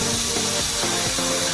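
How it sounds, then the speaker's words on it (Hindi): A 600-degree heat gun blows at full power beside a cola can, giving a steady, loud, hissing roar with a faint rhythmic low pulse underneath and no voices. "आइए कोला का एक कैन लेंगे और उसके बगल में पूरे पावर के साथ ड्रायर लगाएंगे।"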